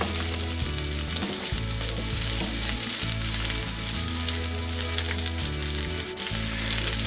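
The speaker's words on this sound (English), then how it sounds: "So we've got the garlic in there, and we've got the red onions." Garlic and red onions sizzle steadily in a hot pan, a continuous close crackling hiss that never lets up, layered over a low, steady tonal hum.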